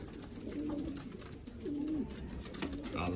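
Racing pigeons coo near a loft as they come in to land after a 290 km race from France, soft repeated throaty coos over light background noise, with a voice speaking faintly at times.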